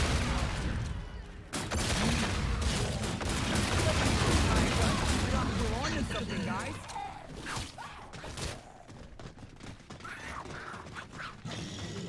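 Laser gun shots fired during a zombie fight with a tank-like boss in the sci-fi shooter Zombies in Spaceland, dense and continuous over busy game effects with a voice talking over it.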